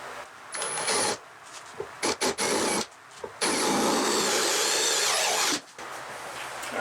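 A power drill bores a large hole for a bushing through a wood closet shelf after a pilot hole, sounding as loud bursts of grinding and cutting, several short starts followed by a long sustained run.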